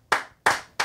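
Three crisp hand claps, dry and close, spaced roughly a third of a second apart, with nothing else around them.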